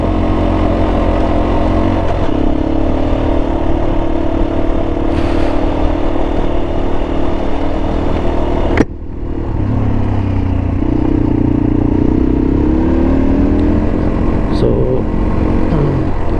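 Motorcycles, among them a 660, ride a mountain road in a group in first gear, their engines droning loudly and steadily, with a rising rev and a brief clatter midway.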